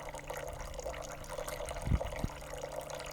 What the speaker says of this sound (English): then obviously flow from that little tiny reservoir into the main pond of the waterfall.